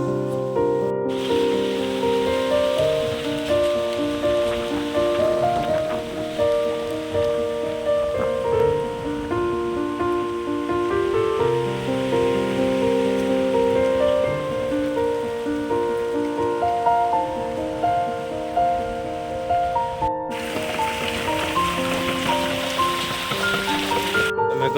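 Heavy rain falls in a village near a temple, a dense, steady hiss of drops on surfaces that continues loud and unbroken, with a brief drop-out partway through and no voices.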